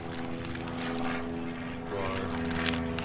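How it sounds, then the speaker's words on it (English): A propeller airplane flying low over a house, a steady droning hum with tonal engine whine, fairly close, continuing throughout under faint background noise. "the plane going right over my house while I'm recording this"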